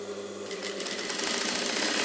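A sewing machine stitches a hook strip onto a blouse, running in a fast, continuous mechanical whir that builds slightly in loudness, close up with no talking.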